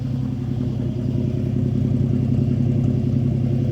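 Truck engine idling, picked up close at the tailpipe, a steady throbbing exhaust rumble with a faint clatter, continuous and fairly loud.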